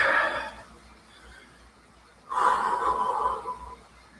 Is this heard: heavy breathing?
yes